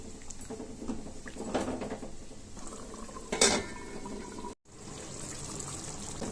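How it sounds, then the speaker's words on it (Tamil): Chicken simmering in a masala gravy in a pot, with a low, steady bubbling hiss broken by a few clinks of a spoon and a louder scrape of stirring partway through. "இந்த மசாலாவோடையே சேர்ந்து இந்த சிக்கன் ஒரு 10 நிமிஷத்துக்கு வேகட்டும்."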